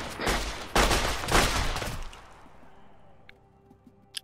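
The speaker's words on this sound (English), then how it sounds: "we're taking fire from the shore" Gunfire from the shore in an Arma 3 battle, a few sharp bursts close together followed by fading echoes and scattered distant pops.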